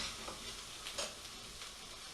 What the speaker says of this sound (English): So they're starting to toast. Doesn't matter if they slightly start to burn. I'm stirring them